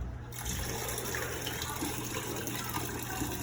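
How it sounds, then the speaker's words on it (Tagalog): Water runs steadily from a kitchen faucet, a continuous hissing splash at moderate volume with no speech over it. "Open the faucet."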